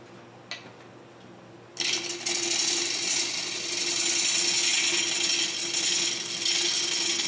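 A wood lathe spins up and a 1/2 inch bowl gouge starts roughing a wooden bowl, giving a steady loud hiss of cutting with a constant motor hum, close and continuous after a quiet start.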